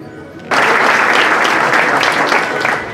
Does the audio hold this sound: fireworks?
no